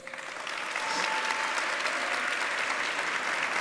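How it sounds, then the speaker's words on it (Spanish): A crowd at an opening ceremony for a film festival in Valdivia applauds a government undersecretary, with steady sustained clapping that swells in the first second and holds at full strength. "Un fuerte aplauso para ella"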